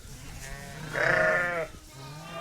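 A sheep in a barn during lambing season lets out one loud, wavering bleat lasting under a second, close by, with quieter barn noise around it.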